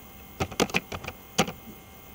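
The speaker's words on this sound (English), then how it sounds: "Then you can start typing." Typing on a computer keyboard while entering text in Microsoft Word, a handful of close, crisp key clicks in an uneven burst with a short pause between groups.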